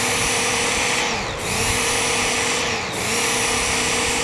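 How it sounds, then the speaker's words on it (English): A Work Sharp belt knife sharpener grinds a tanto folding knife with a loud, steady motor whine and abrasive hiss up close. Two brief dips in pitch mark the blade being drawn across the belt, with no talking. "drawing it across, and not taking the tip beyond the halfway point on the belt"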